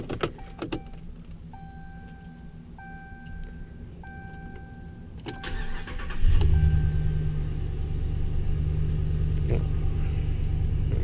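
A 2017 Ram 1500 Laramie pickup with a 5.7L Hemi V8 cranks and fires up about midway, after soft cabin chimes and clicks, then settles into a steady, loud, deep idle rumble.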